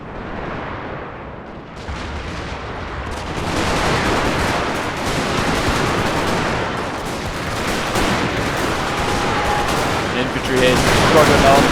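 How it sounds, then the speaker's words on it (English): Civil War artillery battery firing in Total War at Conewago Creek, 1863, a dense crackle of cannon and gunfire that swells after a quieter start and stays loud and continuous, with faint voices in the mix. "there's just a huge artillery battery over here"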